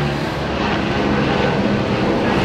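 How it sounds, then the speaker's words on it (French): A small helicopter passes overhead, producing a loud, steady broadband engine and rotor roar with no voices. "Petit hélico au passage."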